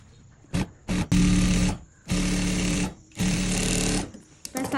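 A sewing machine stitches a model gown in three long, steady bursts of about a second each, with short stops and brief starts between them, loud and close.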